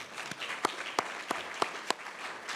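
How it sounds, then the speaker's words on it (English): A small audience at a side event claps in a sparse, scattered way, with a few sharp individual claps standing out over a soft wash of applause. "Let's give him applause for all of what he's doing."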